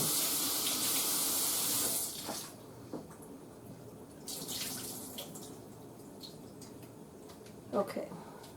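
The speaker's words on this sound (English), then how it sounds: "First I'm going to drain it. Then I'm going to rinse it out." Water running from a tap into a jar of pressure-canned potatoes to drain and rinse off the starch: a loud steady rush that stops after about two seconds, followed by softer splashes, clinks and a sharp knock, with a person speaking.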